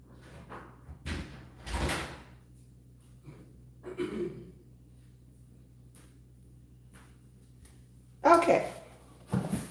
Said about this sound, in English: Let me close one door because Farmer is having a conversation.